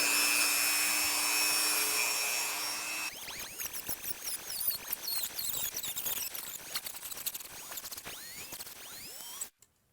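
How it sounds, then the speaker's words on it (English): A Dremel rotary tool with a cutting wheel slices through enclosure material for a DIY tarantula enclosure, starting with a steady loud whine for about three seconds, then breaking into rough, uneven grinding and scraping bursts before cutting off abruptly. "I've got the cutting wheel on the Dremel here, and I'll go ahead and just cut that now"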